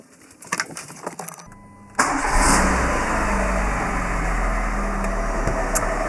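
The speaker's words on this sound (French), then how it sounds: "Je vais déjà démarrer la voiture" A Citroën C2 with a TU petrol engine cranks briefly and catches, then settles into a steady, close idle hum that holds for several seconds after some faint handling clicks.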